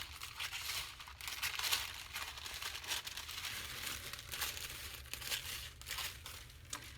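Paper is trimmed by hand for a handmade journal, giving soft crinkling, rustling and scraping at close range, fairly quiet and unsteady throughout.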